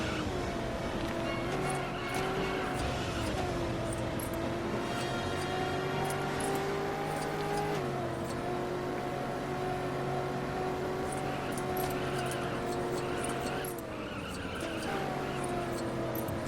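Robin's ground vehicle driving in the video game Lego Batman 2, a continuous buzzing engine tone that rises and drops in pitch with gear-like shifts, with scattered skid and clatter effects, no talking.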